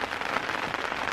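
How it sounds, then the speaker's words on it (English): Rain patters on a tent during a mountain thru-hike in Poland, a dense, even crackle of drops on fabric, moderately loud and continuous with no voices. "Rains, as you can hear."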